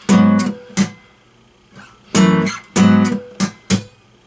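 Guitar chords strummed close and alone, with sharp percussive mutes that choke the strings between ringing strums, in an uneven, syncopated rhythm.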